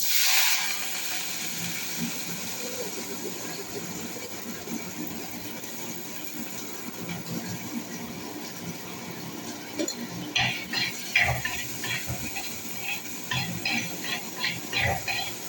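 Shallots sizzle in a pan with bitter gourd and onion, a faint continuous hiss broken by scattered scraping and clinking strokes of a spoon stirring, growing busier toward the end.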